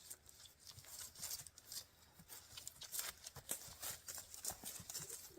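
A horse moves around its handler on foot, its hooves making soft, irregular thuds and scuffs at close range, with no talk.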